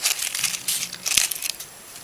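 Crepe paper crinkles and rustles as it is wrapped around a paper flower stem, with soft, close crackling handling noises in irregular bursts and one brief louder crunch.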